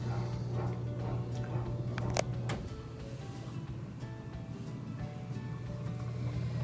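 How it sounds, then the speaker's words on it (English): Water rushes into a Bosch dishwasher as it begins filling, a steady, even hiss of flow with a low mechanical hum under it and a couple of brief clicks. "next up we should hear the water pour in"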